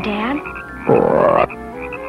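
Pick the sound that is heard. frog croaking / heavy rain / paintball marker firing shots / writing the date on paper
frog croaking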